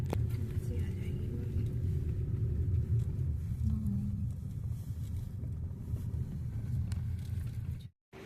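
Steady low interior rumble of a car driving on a road toward a large temple in Bijnor, continuous and even throughout before cutting out briefly near the end.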